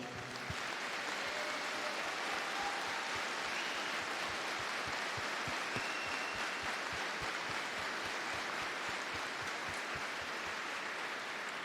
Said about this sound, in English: can we give Sergeant Sheik a round of applause?